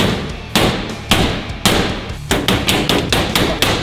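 Metal tool repeatedly driven and levered against a steel safe door, giving a series of loud, sharp banging impacts roughly every half second, close and unaccompanied by speech.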